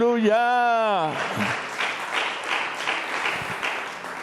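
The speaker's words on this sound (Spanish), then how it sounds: "Denle el aplauso por este milagro tan grande, tan maravilloso de conocerle." A church congregation bursts into applause during a sermon, a sustained wash of clapping that follows a brief sung or drawn-out vocal phrase at the start.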